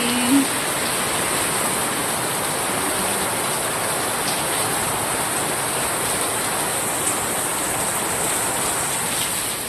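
Heavy rain pours down in a dense, unbroken roar for about ten seconds, loud and close with no voices.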